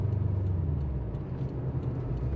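A Subaru STI cruises at 60 miles per hour with a steady low engine and road rumble heard from inside the car, constant and moderately loud, with no speech.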